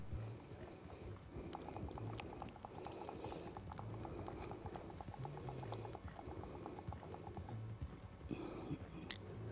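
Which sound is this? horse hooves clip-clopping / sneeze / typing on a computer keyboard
horse hooves clip-clopping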